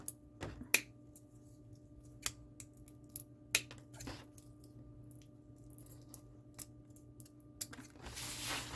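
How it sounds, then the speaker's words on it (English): Scissors trim the lip of a plastic craft suncatcher in sharp, close snips, spaced unevenly over several seconds against a quiet background, with a soft rustle at the end. "you can actually take some scissors and just trim off"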